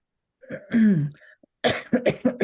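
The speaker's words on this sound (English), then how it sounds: "getting over this cough." A person recovering from a lingering cough coughs close up, a raspy hacking burst followed by a short pause and a quick string of several more coughs.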